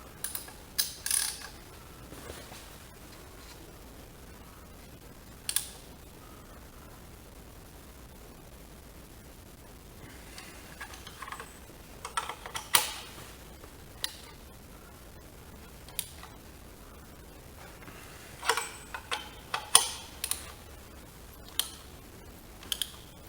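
A socket ratchet tightens the fuel injector nuts on a 2014 Chevy Cruze Diesel engine, giving faint, close, scattered clicking bursts in short runs with pauses between them and no talking.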